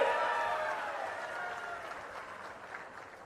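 Crowd applause at a political meeting, a dense wash of clapping that starts fairly loud and slowly fades away over a few seconds.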